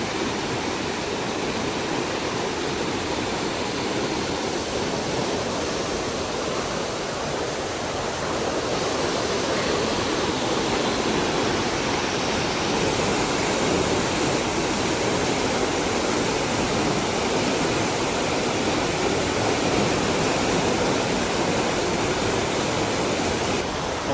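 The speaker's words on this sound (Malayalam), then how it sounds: "ഇവിടെ സൈഡിൽ കാണുന്ന പോലെ തന്നെ വെള്ളച്ചാട്ടം പോലെയാണ് സെറ്റപ്പ്. വെള്ളം തുറന്നു വിടുന്നതാണ് അവർ." Water released from a dam pours down like a waterfall at Ezhattumugham, a loud, constant roaring rush of falling water that fills the whole scene without pause.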